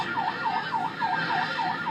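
Ambulance siren wailing in Monrovia, Liberia, a rapid repeating rise-and-fall tone cycling evenly about three times a second, fairly loud and steady with no talk.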